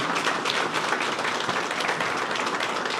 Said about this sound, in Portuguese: Então eu queria pedir uma salva de palmas para a Vitória, a netinha do Dr. Viana